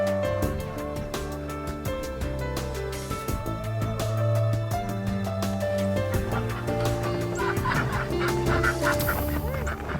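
Chickens cluck and call repeatedly on a cold, still winter morning at a farm, with overlapping bird sounds throughout and no talking.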